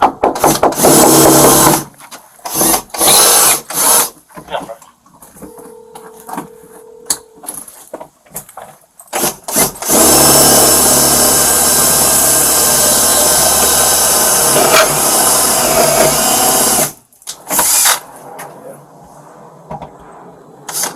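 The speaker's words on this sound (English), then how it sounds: "You go ahead and start drilling." A power drill drilling out door locks whirs in repeated short bursts, then runs in one long continuous grinding stretch before stopping and restarting briefly; close and loud.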